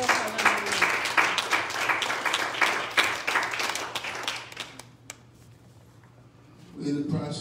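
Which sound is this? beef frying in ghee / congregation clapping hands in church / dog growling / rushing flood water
congregation clapping hands in church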